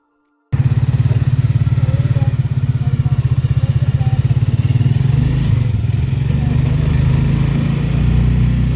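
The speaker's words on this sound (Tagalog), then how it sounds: "pupunta na ako dito sa tricycle" A motorized tricycle's engine runs loud and close throughout a ride, a steady droning putter that picks up in pitch and roughness partway through, with faint voices underneath.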